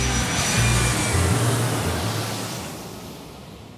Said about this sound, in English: part 2 of Kat's round trip story gets ready for takeoff